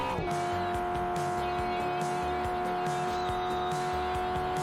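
A race car drifts in the video game Drift Stage, likely a DeLorean DMC, its engine droning with a steady pitch as tires squeal continuously through a slide, loud and close.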